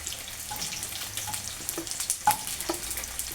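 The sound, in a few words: paneer tossed and frying in oil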